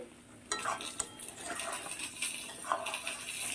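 Mutton pieces stirred and fried in a pan, with a low bubbling sizzle under repeated clattering scrapes and knocks of a spatula against metal, close by.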